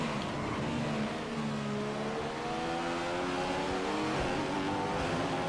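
A Formula 1 race car engine in the video game F1 2015 drones at high pitch, with its tone stepping down through gear changes. The sound is loud and continuous, with no talking.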